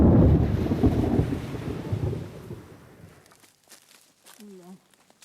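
Heavy tropical rain and a deep rolling rumble of thunder in Arnhem Land dominate the first half, then fade out, leaving quieter scattered sounds and a brief voice near the end.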